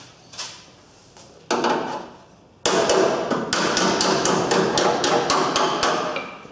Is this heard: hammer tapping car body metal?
yes